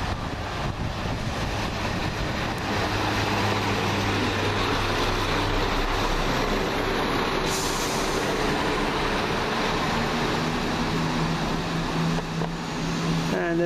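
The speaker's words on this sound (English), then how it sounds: "Next train in, the 11:06 London Midland service from Stratford-Upon-Avon to Stourbridge Junction" A London Midland train arrives at Stratford-upon-Avon Parkway station, a long, steady rumble of wheels and engine with rising and falling tones and some squeals toward the end.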